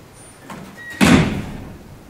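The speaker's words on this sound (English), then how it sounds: "So show that if this door shuts" A spring-loaded classroom door swings shut and bangs against its frame, a light knock followed by one louder, close thud with a short rattle, no talking.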